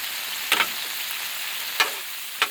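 Japanese fried rice frying on a Blackstone griddle turned to high, giving a loud, even, close sizzle broken by three sharp spatula scrapes and taps against the flat-top, with no talking.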